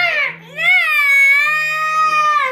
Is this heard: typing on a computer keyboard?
no